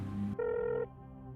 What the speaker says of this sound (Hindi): जैसे ही मैं अंदर आया मेरा फोन बजा।